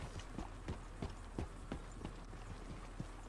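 A horse's hooves clip-clop in Red Dead Redemption 2, a steady walking rhythm of sharp evenly spaced hoofbeats with no talk, near and moderately loud.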